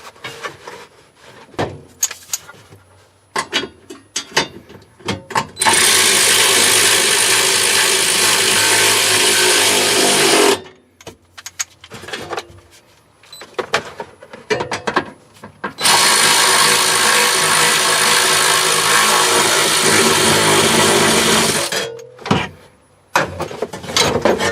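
A power tool runs in two long, loud, steady bursts while tightening nuts and washers on a relocated battery mount in a 2001 Lexus IS300, with clanks and handling noises of metal parts between and after the runs.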